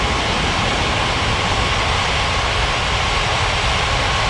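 A jet airliner takes off from a runway in an air traffic control game, its steady roaring engine noise loud and constant throughout with no talk.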